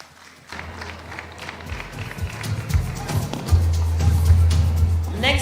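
Applause and cheering rise from the crowd at a Ghana fashion show as a model walks off the stage, building into a full wash of clapping over a low rumbling hum, with speech mixed in.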